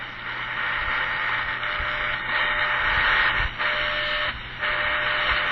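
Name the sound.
Eton Mini shortwave radio reception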